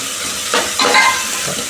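Tomatoes and onions with turmeric and chili powder sizzle loudly in a pan, a close, steady hiss with a few stirring scrapes mixed in.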